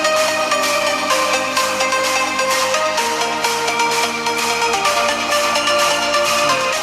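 Infinix Smart 10 smartphone playing music through its dual speakers, a steady loud stream of bright tones and beats filling the whole stretch with no talking.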